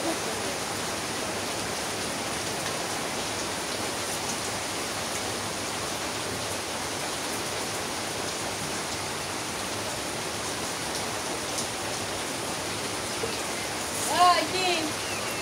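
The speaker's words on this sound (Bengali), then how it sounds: "হ্যাঁ বৃষ্টি নেমে পড়লো, এতক্ষণ আসলো ফাঁকা, বৃষ্টি আসলো আবার" Steady, dense rain falling outdoors, an even continuous hiss that holds at the same level the whole time.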